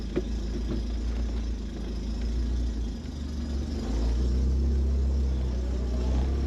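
A Fiat X1/9 engine rumbles at a low idle nearby, then swells slightly as the car begins to move, with a steady deep drone throughout.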